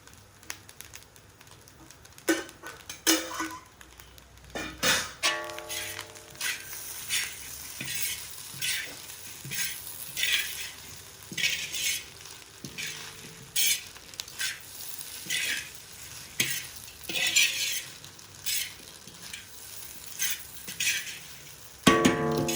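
Chicken fried rice being stirred and fried in oil in a pan, with steady crackling sizzle broken by repeated scraping and clattering of a utensil against the pan, close and busy throughout.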